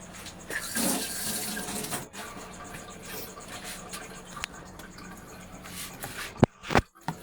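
Water is poured into a cooking pot for sinigang, a close, splashing, gurgling stream that runs steadily, then ends in a few sharp knocks and clatters.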